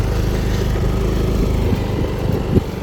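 A motorcycle engine strains under a heavy load of two cement bags, a loud close low-pitched drone with a rough, pulsing chug that stays steady throughout.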